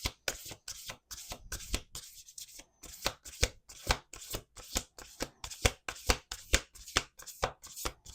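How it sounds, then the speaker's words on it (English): A deck of cards being shuffled up close, with quick rhythmic riffling bursts repeating in a steady pattern. "Let's do one more shuffle."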